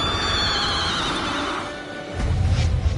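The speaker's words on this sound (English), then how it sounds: "Weird horse." A horse neighs and whinnies in the video game Tales of Arise over a busy, noisy background, followed by a louder rumbling burst near the end.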